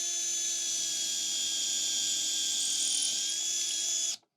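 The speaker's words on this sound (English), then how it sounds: "no problems at all pre-drilling a dowel with this jig" A power drill bores into a wooden dowel held in a drill guide jig, giving a loud, steady high-pitched whine that holds for about four seconds and then cuts off abruptly, with no talking.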